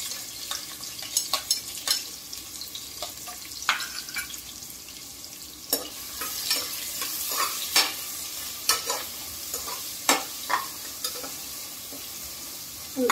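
Onion frying and sizzling in a pan while a utensil stirs it in scraping strokes, with clear close clicks and taps over a steady hiss and no talking.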